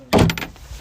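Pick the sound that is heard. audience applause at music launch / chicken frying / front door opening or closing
front door opening or closing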